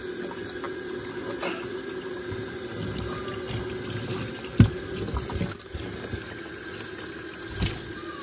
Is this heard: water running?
yes